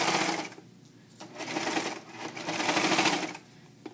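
A serger overlock machine stitching and trimming a knit cuff. Its close, loud bursts of rapid whirring surge and ease off a few times as it slows over thick seams, with no talking.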